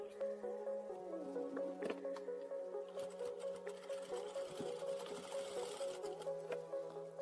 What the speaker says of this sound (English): Here we will fold back the sides by 3 centimeters each and sew them.